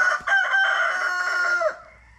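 Young roosters crowing, a loud close cock-a-doodle-doo call lasting over a second, preceded by a short clucking note, with no talk.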